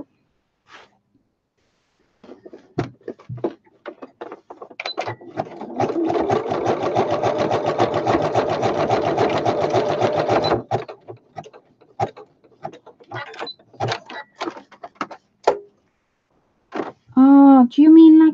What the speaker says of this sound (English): Let me do a wider zigzag stitch.